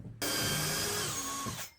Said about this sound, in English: let's pre-drill some holes. This is hardwood.